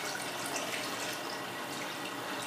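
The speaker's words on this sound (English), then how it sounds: "I'm just gonna chew the 900 grams of water straight in this pot like this." Water pours steadily from a container into a cooking pot for a sorrel Christmas drink, a continuous bright splashing gush, close and unbroken for a couple of seconds.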